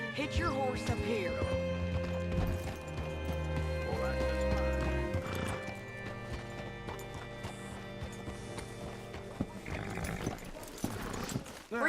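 Horse hooves clip-clop and a whinny in Red Dead Redemption 2, with steady hoofbeats and a loud neigh, mixed with game music and talking.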